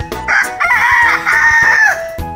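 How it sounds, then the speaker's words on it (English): A rooster crows on a farm, one loud, close cock-a-doodle-doo with a long drawn-out final note, alone with no talk. "Early morning, rooster crows."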